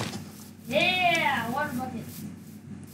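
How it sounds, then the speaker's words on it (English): A Minecraft sheep gives one clear, wavering bleat that lasts under a second, close and prominent against a quiet game backdrop. "That sheep is there."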